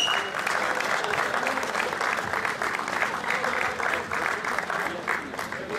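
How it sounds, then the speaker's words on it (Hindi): A crowd claps steadily at a cricket tournament award ceremony, a thick, even wash of many hands that stays loud throughout and eases slightly near the end. "बहुत सी तालियां जी।"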